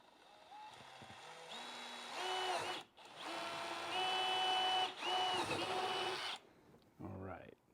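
A power drill bores holes through a car dashboard during a dash cover install, its motor whining loudly in several long bursts that rise and hold pitch, with short pauses between runs.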